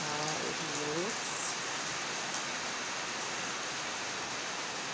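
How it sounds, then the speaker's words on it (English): Heavy rain pours in a steady, dense hiss, with a voice speaking briefly at the start and a faint passing noise mid-clip. "It's raining so heavily."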